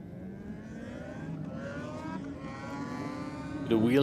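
A drag racing motorcycle makes a pass down the strip at a dragway bike night, its engine a steady, droning roar that swells louder near the end.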